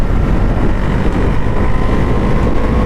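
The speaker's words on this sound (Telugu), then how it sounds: "ఒకసారి పుల్ చేసి చూద్దామా ఈ బైక్ని" A Bajaj Pulsar NS 400Z motorcycle pulls hard through its gears on the road, its exhaust roar a loud, constant drone heavily smeared by wind rushing over the microphone.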